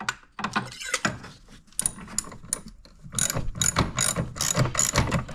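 Ratchet with a swivel-end extension working on the ignition coil of a 2009 BMW 128i with the N52 engine, giving a run of close, crisp clicking bursts in uneven spurts, loud and alone with no talking.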